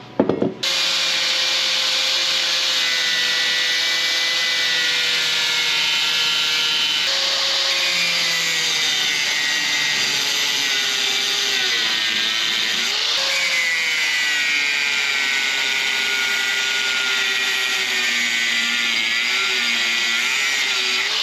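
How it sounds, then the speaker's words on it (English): An angle grinder grinding off tack welds on a Duramax diesel up-pipe, a loud continuous high whine that holds for about twenty seconds with slight dips in pitch as the disc bites into the metal, with no voices. "there's 3 little tack welds here, and we gotta grind those off"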